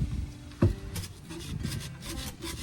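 Rough, repeated rasping of sandpaper on soft beach or lake driftwood in uneven strokes, the wood shredding, close by, with one sharp knock near the start.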